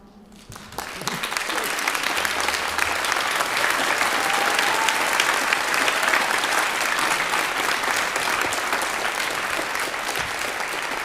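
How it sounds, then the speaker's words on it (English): Audience at a spring choir concert breaking into applause, which starts suddenly and swells into sustained, loud, even clapping from the whole crowd. "Audience claps."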